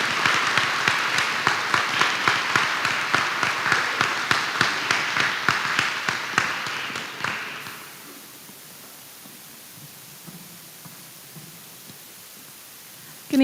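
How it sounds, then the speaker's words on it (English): Audience applause at a school board of education meeting for students and teachers: dense, steady clapping for about seven seconds, then it stops abruptly and quiet room tone follows. "please give them a round of applause because they make my job easy"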